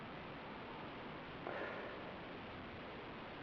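A single short sniff of a beer partway through, close and soft, over a quiet background hiss with no talking.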